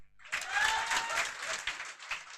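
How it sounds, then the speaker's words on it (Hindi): A short burst of audience applause at a lecture, steady and fairly faint, lasting about two seconds. "जोरदार तालियां"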